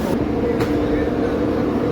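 An AC double-decker express train stands at a station platform around Chennai, giving a steady low rumble and hum with faint voices murmuring in the background.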